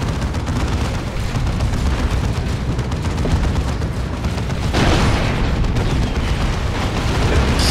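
Artillery shells explode in the strategy game Dawn of War 2 Retribution. They form a loud, dense, continuous barrage of booming rumbles that swells slightly partway through, with no talk.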